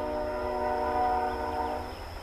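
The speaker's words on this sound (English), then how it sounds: "There's a crossing right over in the back of that train." A passing train at a nearby rail crossing sounds a sustained, loud horn chord that holds steady for the whole stretch, with a low rumble of rolling cars underneath and no talking.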